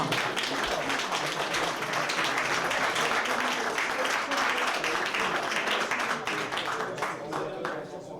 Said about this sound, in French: je vous propose d'applaudir tous les intervenants donc, ce soir.